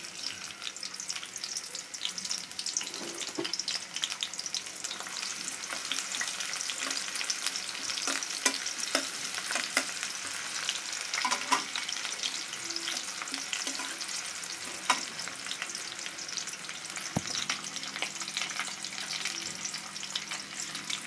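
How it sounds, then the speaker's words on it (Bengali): Chopped onion fries in about three tablespoons of white oil, a dense, steady sizzle that crackles continuously for about twenty seconds, close and even, with occasional faint stirring clicks and no talk. "এখন আমরা পেঁয়াজ কুচি দিয়ে দেব।"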